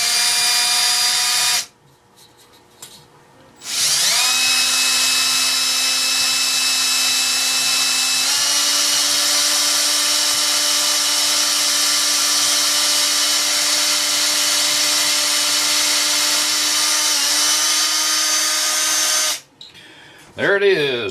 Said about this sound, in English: now it's time to drill the hole for the pin